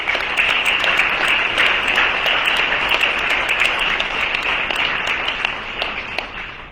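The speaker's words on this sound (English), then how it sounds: "Can we give them a round of applause?" Loud, dense applause from a town hall audience on Fentanyl Awareness Day, thanking the panelists, a thick even wash of clapping that holds steady before tapering slightly at the end.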